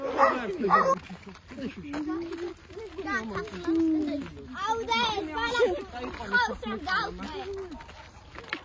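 Several dogs barking near a village house, a string of repeated barks and yips with some whimpering, mixed with people and someone talking throughout.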